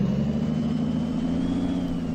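A Renault Major truck engine in Euro Truck Simulator 2 idles with a steady low rumble and a faint higher whine, loud and constant throughout.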